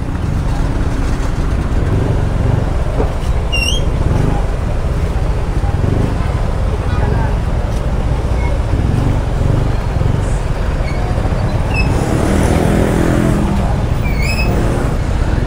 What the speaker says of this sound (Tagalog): Sorry, hindi na mapagsalita kasi traffic.